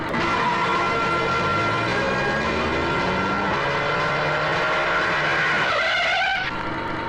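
A car drives onto a no-entry road in a Hindi comedy scene, its engine a steady close drone under a dense, buzzing background that swells and then cuts out near the end.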